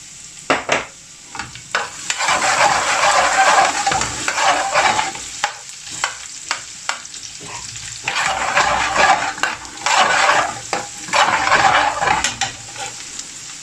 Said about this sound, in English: now I'm going to add 1/3 cup of chopped garlic.